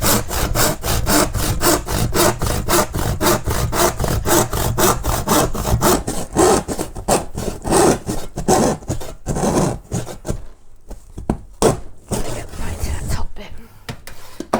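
A knife is drawn repeatedly across board while building a foldaway dolls room, a fast, even run of close rasping strokes that later turn slower and more broken, with a person talking over it.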